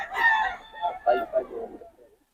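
A young rooster at a poultry market crows once nearby, a rising then broken call of several pulses that fades out.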